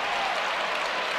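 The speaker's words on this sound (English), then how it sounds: "Crowd trying to motivate this Wolverines team again" A basketball arena crowd cheers and applauds in a dense, continuous roar that stays steady and loud throughout.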